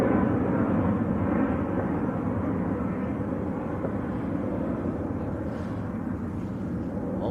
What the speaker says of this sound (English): Also just touching down.